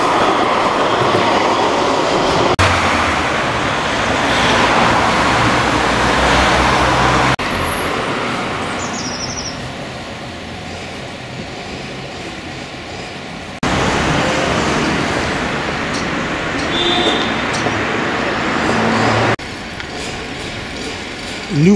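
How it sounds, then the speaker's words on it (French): The Orléans tram runs along a street in the Saint-Marceau district, a loud, sustained rumbling roll with metallic wheel squeal, surrounded by busy traffic noise that rises and falls over about twenty seconds. "Le tram d'Orléans circule sur cet axe."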